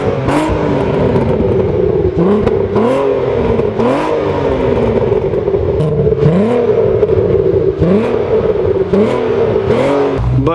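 A loud Volkswagen Mk4 R32 VR6 engine with an aftermarket Magnaflow exhaust revs repeatedly with a deep, raspy exhaust roar, rising and falling in a steady rhythm of throttle blips throughout.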